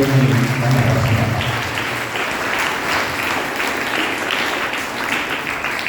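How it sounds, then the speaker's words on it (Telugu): A church congregation at a feast-day Holy Mass claps together loudly and continuously, a broad steady wash of applause with a faint voice at the start. "మరి ఒకసారి గట్టిగా చప్పట్లు దేవుడిని నమ్మకస్తున్నాం"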